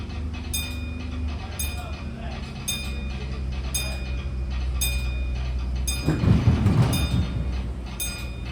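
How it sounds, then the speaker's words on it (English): A Disneyland Railroad train rolls along at night with a steady rumbling clatter, wheels clicking rhythmically at regular intervals, and a louder burst of rattling near the end, heard from on board. "welcome aboard the Disneyland Railroad"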